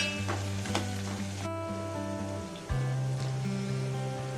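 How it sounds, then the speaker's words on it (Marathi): Crushed ginger and garlic sautéing with onions in a pan for egg masala, a sizzle under strong tonal hum, with a brief stir and a shift in the background drone partway through. "आता आपण या कांद्यामध्ये आलं लसूण जे ठेचलेलं आहे आपल्याकडे ते थोडंसं टाकून घेऊया। परतून घ्यायचं।"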